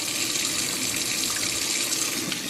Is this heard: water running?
yes